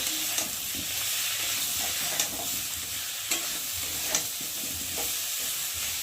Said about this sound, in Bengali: আদা বাটা দিয়ে ভালো করে কষিয়ে নেব।